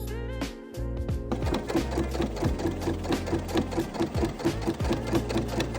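A sewing machine runs steadily, stitching a double seam along the outer sleeve of a handmade denim jacket; its rapid, even mechanical chatter is close and loud, with a brief pause near the start.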